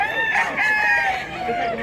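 A rooster at a chicken sale crows close by in one long, loud call, and other fowl call and cluck behind it.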